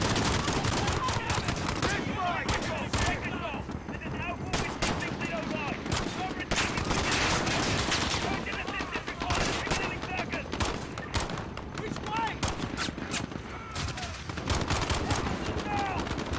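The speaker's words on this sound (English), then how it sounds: "there's people shooting all over the place" Dense gunfire rattles through a Call of Duty: Modern Warfare (2019) street battle in Piccadilly, bursts of automatic fire and shots overlapping continuously and loudly throughout, with a player's voice talking over parts of it.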